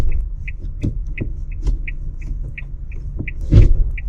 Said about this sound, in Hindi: लेकिन जो इसका रिवर्स गियर है ना, वो इस तरह आवाज़ करता है।